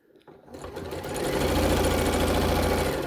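A sewing machine stitches a fabric tube, starting after a brief quiet moment and building into a steady, close mechanical whir that runs alone for a few seconds.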